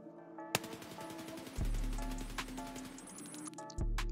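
An unsuppressed MDR rifle fires in the Escape from Tarkov game, sharp rapid bursts of full-auto shots with mechanical clatter, loud and close, with pauses between bursts and no talk.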